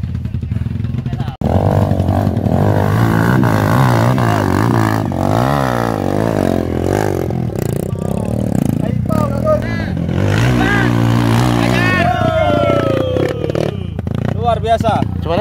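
A trail motorcycle engine revs and strains continuously on a rough adventure trail during a police-organised trail ride in Bangka, with people talking and calling out over the engine throughout.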